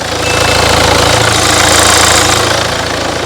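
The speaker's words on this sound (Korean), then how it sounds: "그리고 엔진 소리 한번 들어보도록 하겠습니다." A Hyundai Santa Fe SUV engine idles close by, a low rhythmic throb with constant mechanical hum and no speech.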